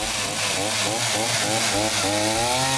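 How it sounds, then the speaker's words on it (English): A chainsaw hollowing out wood from the forked section of a tree trunk for a carpentry build, the engine loud and continuous, its pitch rising and falling under load as it cuts, close up with no talking. "using the chainsaw to dig it out worked best"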